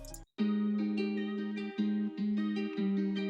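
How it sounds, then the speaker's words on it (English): A simple lo-fi 8-bar guitar loop sample plays in its original form. After a brief gap at the start, clean picked notes repeat in a steady pattern at a fairly quiet level, with no voices. "Starting with the sample is just this simple 8-bar guitar loop."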